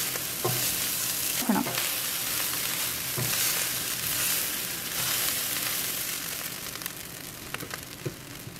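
Egg fried rice stir-fried in a pan over medium-high heat, a steady loud sizzle with occasional scraping and tossing clatters of the spatula, no voices.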